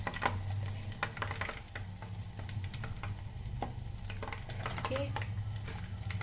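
Mushrooms fry in oil inside an electric kettle with a soft steady sizzle, while a spoon scrapes and clicks against the pot as they are stirred; a voice speaks briefly over the cooking.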